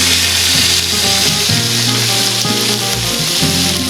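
Loud, steady sizzling and crackling fills the clip as paella mix hits a hot pan with pork ribs and sausage, a dense continuous fry heard up close with occasional scraping of stirring and no speech.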